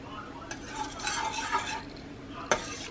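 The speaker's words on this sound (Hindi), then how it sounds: "कड़ी में जब तक एक दो बॉईल नहीं आ जाते ना, उसको इस तरह से हिलाते रहेंगे" A spoon stirs kadhi in a pot with a continuous scraping swirl, sharp clinks against the pot's side near the start and end, and a steady background hiss.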